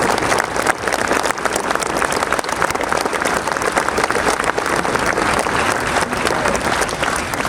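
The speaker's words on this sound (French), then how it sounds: "Re-applaudissez-les avec joie." A large outdoor crowd at a French motorcyclists' gathering in Cap d'Agde claps loudly for the police, a thick sustained wall of applause that holds steady throughout.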